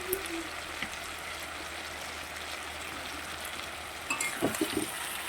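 River chela fish frying in a pan with a steady, close sizzling hiss, joined near the end by a few scraping clatters of stirring.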